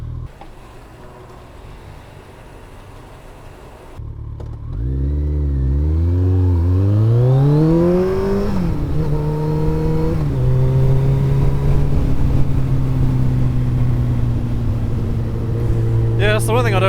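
A Kawasaki motorcycle pulls away close by, its engine climbing through several revving gear changes before settling into a steady drone with rushing wind noise.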